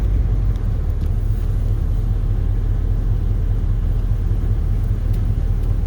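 A 1972 Pontiac LeMans Sport GT convertible with a 455 V8 idles in a steady, deep, even rumble, close and loud throughout, with no talking over it.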